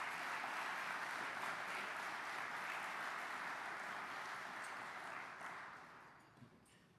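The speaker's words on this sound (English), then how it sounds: "a round of applause for those folks" An awards banquet audience applauds in a dense, sustained wash of clapping that holds for several seconds and then thins out and fades near the end.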